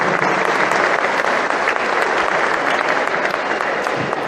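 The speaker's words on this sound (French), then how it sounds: "Un petit applaudissement, s'il vous plaît." Applause at a tournament opening ceremony in Majunga, an even and fairly loud crowd clapping that carries on for about four seconds with no talk over it.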